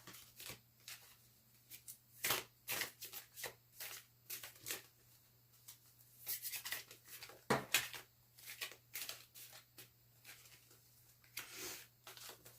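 Tarot cards being shuffled by hand during a love reading, a quiet run of repeated riffling and slapping bursts, some stronger than others, close and alone with no talk.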